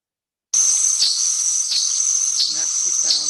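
Female black-throated mango hummingbird in the Colombian Andes: a steady, bright high-pitched insect-like buzzing trill runs continuously, with a few short lower chirps breaking in near the end.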